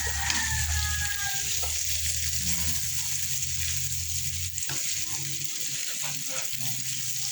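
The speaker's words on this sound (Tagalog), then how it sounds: "Nilagyan ko ng mantika para noon maprito siya." Dried fish frying in oil in a pan, a steady close sizzle running throughout with faint stirring clinks and a rooster crowing in the background.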